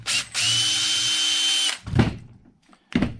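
Cordless power drill backing out a frame bolt on an Axial Ryft RC monster truck, a loud close whine held steady for over a second after a short burst, then clicks and a brief second spin.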